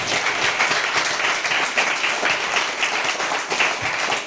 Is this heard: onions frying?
no